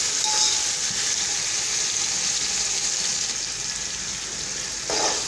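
Ginger and garlic fry in a pan for vegetable pulao, giving a steady, close, even sizzle throughout, with a faint scrape near the end.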